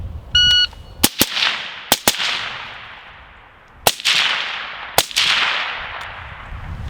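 Rifle shots fired at close targets during a shooting drill: about seven sharp, loud reports, mostly in quick pairs, each with a short ringing tail, separated by brief pauses.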